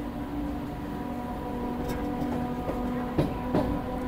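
A Naihati-Bandel local train crossing the Sampriti rail bridge gives a steady close rumble with a faint tonal hum and a few soft clacks.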